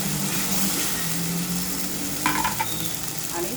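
Coriander and mint leaves frying in oil for chicken biryani, a steady close sizzle with scraping stirs partway through and no talking.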